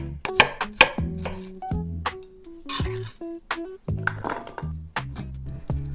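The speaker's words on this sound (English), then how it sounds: "Then, roughly chop the garlic." A knife chops garlic roughly on a board in short uneven bursts of crisp, close knocks, with a few clinks of the blade in a quiet kitchen.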